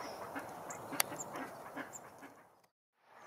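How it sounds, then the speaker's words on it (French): Ducks at a snowy farm quack faintly and at a distance in a few scattered calls, with one sharp click partway through before a short silence. "Voilà les canards qui sont timides aujourd'hui, ils se cachent sous le sapin."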